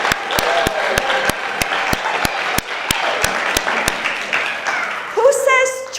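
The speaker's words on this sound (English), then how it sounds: "People, a nice clap for yourselves." A church congregation applauds together after a joyful service moment, a steady wash of clapping under regular sharp clicks, with a brief voice or tone rising at the end.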